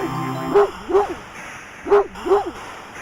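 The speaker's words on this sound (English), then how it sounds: "a series of excited barks" A large dog barks excitedly in loud, close bursts, four sharp barks in two quick pairs separated by a short pause, with faint background noise between them.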